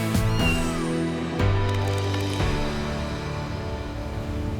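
A very underweight kitten with cat flu and patchy missing fur meows repeatedly at close range, its cries drawn-out and strained, with a steady background hum beneath.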